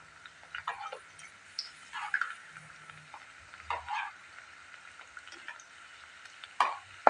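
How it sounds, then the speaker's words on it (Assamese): Faint, steady sizzle of a flour-dough snack frying in oil over low-medium heat, with occasional soft pops and light scraping or stirring clicks scattered throughout, no voices. "এইদৰে ল' টু মিডিয়ামত অলপ ৰংচঙীয়াকৈ ভাজিব লাগিব।"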